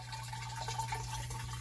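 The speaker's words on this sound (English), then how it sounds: "you can see the water running in there" Water runs steadily through a 4-inch tube in a homemade NFT hydroponic system, a continuous faint trickle over a low pump hum.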